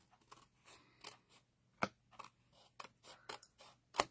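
Scissors trimming paper scraps for a craft design: quiet, irregular snips and paper crinkles close by, with a few sharper cuts standing out over a low hum, no talk.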